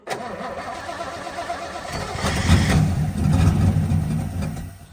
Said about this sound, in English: drop a little bit of go-go juice in the carb just to try and give it a bit of a kick and see what happens